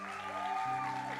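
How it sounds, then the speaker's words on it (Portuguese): Audience applause in a church service, steady clapping from a crowd filling the whole moment, with tonal music or sustained notes running underneath. "Uma salva de palmas para o Shabbat"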